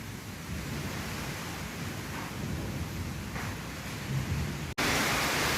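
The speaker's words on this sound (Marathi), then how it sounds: "पाऊस आता जोरानं चालू झाला आहे" Steady, dense broadband roar of heavy rain during a windstorm outside a roadside hotel, filling the whole clip, continuous and loud with no pauses, briefly cutting out near the end before resuming.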